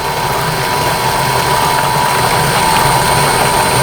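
A 72V BLDC self-priming water pump runs at full output with a loud, steady whine and churning water rush, holding constant throughout with no talking.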